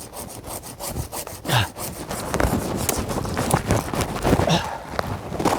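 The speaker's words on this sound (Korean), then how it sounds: "자, 우선 톱질을 좀 더 하겠습니다." Hand saw cutting through tree branches while a tree is pruned and shaped, with steady rasping back-and-forth strokes, close and fairly loud, running continuously without speech.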